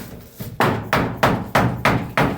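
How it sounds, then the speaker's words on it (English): A hammer taps six times in a steady rhythm on the back side of stapled door trim to loosen it, each knock sharp and close with a short ringing decay. "we're going to gently tap on the trim where all the staples are from the back side"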